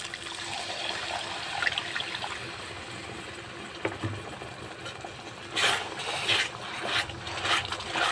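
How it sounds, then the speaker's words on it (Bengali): Water poured into fried spice paste in a pan while cooking Bengali egg curry, a soft trickling pour with bursts of splashing and bubbling near the end, close and fairly quiet. "মশলাটা কষানো হয়ে গেছে, এবার জল দিয়ে দিচ্ছি।"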